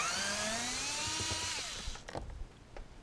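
A cordless drill whirs at high pitch removing door panel screws on a 2015 Subaru Forester, spinning down after about two seconds, followed by light clicks and handling noises nearby.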